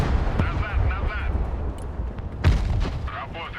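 Missile launch and impact blasts from a Javelin in the war game Broken Arrow, two heavy booms at the start and about two and a half seconds in, amid constant battlefield rumble and distant gunfire, with talk over it.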